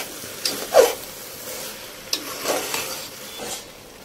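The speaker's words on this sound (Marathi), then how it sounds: "आणि हा पूर्ण परत परतून घ्यायचा भात." Rice for vegetable biryani stirred and sautéed in a pot, with a few scraping stir strokes and soft sizzling coming in separate bursts, close and fairly quiet, with no one talking.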